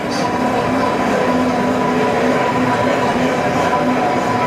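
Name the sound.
Blendtec Professional 800 blender running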